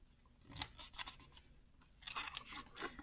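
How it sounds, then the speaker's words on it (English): Scissors snip through thin takeout-container plastic in a few quiet, separate bursts of crisp cutting with brief pauses between, close up and without talk. "You shouldn't need any kind of special scissors or anything to cut this kind of really thin plastic."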